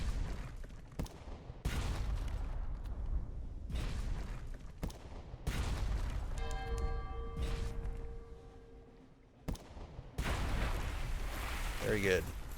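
A ship's guns firing in the video game Sunless Sea give a series of heavy booming shots spaced a second or two apart, each with a low rumbling tail, against a ringing tonal game sound and quiet stretches between.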